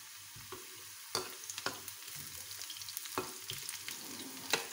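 Onions fry in hot oil in a pan for beef nihari, with red chili stirred in, giving a steady crackling sizzle with scattered pops and a few sharp stirring clicks, close and fairly quiet.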